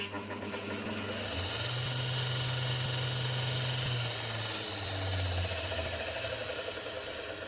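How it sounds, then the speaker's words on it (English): A Ryobi bench grinder / linisher with a new belt spinning up, a motor hum climbing to a steady whirring drone with faint belt hiss, close by and alone. "Ryobi bench grinder / linisher. Just put a new belt on it. Let's see if she spins good."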